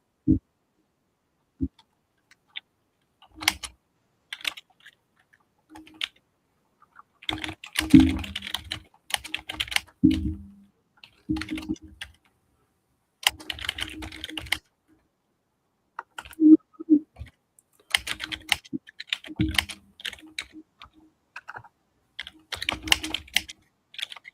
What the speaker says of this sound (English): Let's see if I can type it in.